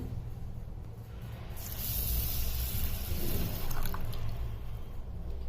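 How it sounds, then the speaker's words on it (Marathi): Moong dal lentils are rinsed in water, giving a steady close-up sloshing and squishing of wet grains that swells a little partway through, with no talking. "ही डाळ स्वच्छ धुवून घ्यायची पाण्याने"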